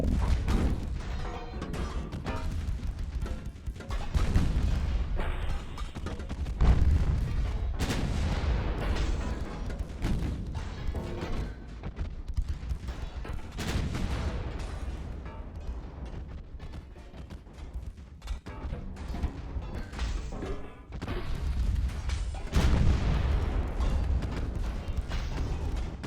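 Warship main and secondary batteries fire steadily in Ultimate Admiral: Dreadnoughts naval combat, a long run of deep booming salvos and crashing impacts that overlap almost without pause, loud and heavy throughout.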